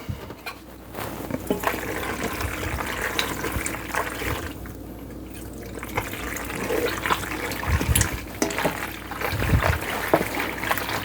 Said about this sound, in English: let me put the milk in first